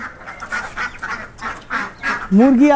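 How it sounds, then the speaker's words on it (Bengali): A flock of about seventy to eighty ducks on a small poultry farm, quacking and honking in repeated bursts that grow loudest and most crowded near the end, mixed with the general chatter of the birds. "এখানে হাঁস আছে 70-80টার মতো হাঁস আছে।"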